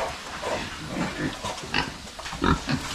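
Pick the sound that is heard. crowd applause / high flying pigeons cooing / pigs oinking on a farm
pigs oinking on a farm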